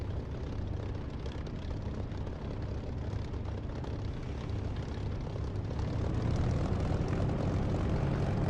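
An aircraft engine in the DCS flight simulator game drones steadily throughout, with a dense low propeller rumble that swells slightly toward the end, with no talking.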